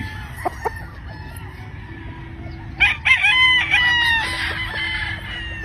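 A golden gamefowl rooster on a gamefarm crows once loudly and close, a long wavering call following a couple of brief clucks, with faint background noise throughout.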